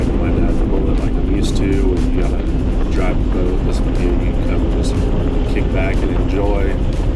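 A performance boat engine roars steadily at around 90 miles an hour over rushing wind and water, loud and close, while a person talks over the noise.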